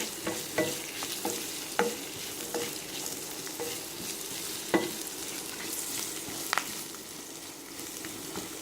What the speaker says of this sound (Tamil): வெங்காயம். இதையும் கொஞ்சம் நல்லா வதக்கணும்